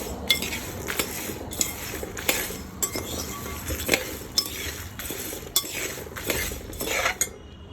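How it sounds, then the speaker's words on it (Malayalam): Semolina mixed with wheat flour is roasted in a pan while a spoon stirs it, giving repeated scraping strokes and metal clinks in a steady rhythm, moderately loud and close, with no talk. "ഇതെല്ലാം കൂടെ നന്നായിട്ടൊന്ന് വറുത്തെടുക്കാം"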